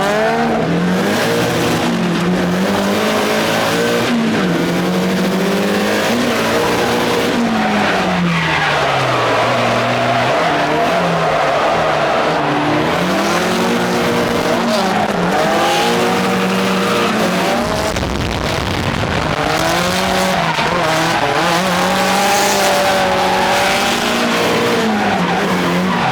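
A ride inside an SR-powered drift car at an event, the engine revving hard in rising and falling waves while the tires skid and squeal almost continuously, loud and close throughout.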